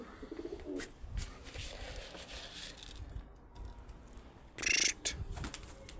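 Pigeons coo softly in an open-air loft area while a bird circles overhead, low murmuring calls under outdoor noise, with a brief sharper sound near the end.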